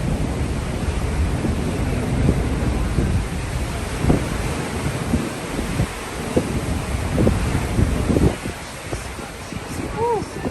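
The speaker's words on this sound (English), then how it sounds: "It's very windy." Strong wind buffets the microphone in rumbling gusts on an Amsterdam canal cruise, with faint surf-like noise and a person talking briefly underneath.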